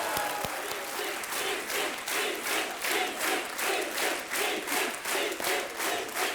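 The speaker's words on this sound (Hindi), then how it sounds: "तालियों के साथ इनका एक बार फिर से स्वागत" A studio audience on a TV quiz show claps to welcome guests, loud dense applause with a rhythmic swell, almost like clapping in time, plus a few cheers early on.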